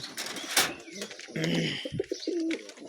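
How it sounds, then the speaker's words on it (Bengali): Pigeons, including a pair of Mayurpankhi (fantail) birds, cooing close by in soft repeated throaty calls with brief gaps, a few overlapping coos from several birds. "অনেকগুলো কবুতর আছে, আপনাদেরকে দেখাবো"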